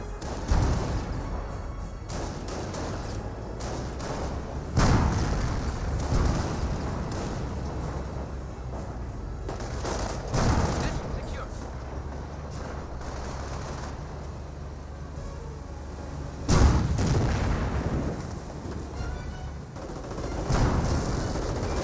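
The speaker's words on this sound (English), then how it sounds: "Hellcat's still firing away." Gunfire and heavy cannon blasts from a Hellcat tank destroyer in a Company of Heroes battle, with sharp booming shots recurring at irregular intervals over a continuous rumble of distant combat.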